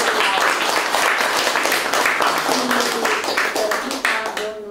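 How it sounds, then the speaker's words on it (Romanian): An audience applauds at a book launch held in a Bucharest library, a steady, dense round of clapping that fills the room. Some voices and cheers rise over it. "S-o și aplaudăm."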